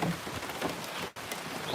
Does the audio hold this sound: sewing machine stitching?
no